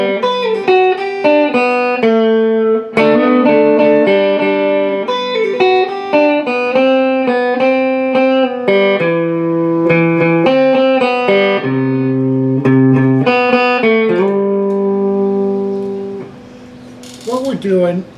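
An electric guitar plays the solo from a song, a quick run of high-register melodic notes with bends and pull-offs that carries on for around eighteen seconds, loud and close.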